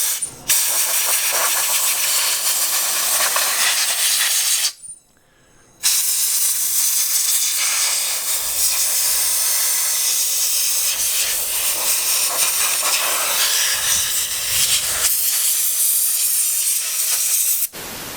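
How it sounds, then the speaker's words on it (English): Compressed air blowing dirt off an electric dirt bike (Talaria Sting R MX4 or Surron Light Bee X), a loud continuous hissing blast that cuts out briefly midway and then resumes, close and steady. "So I'm going to get to blowing off some of the dirt with this air,"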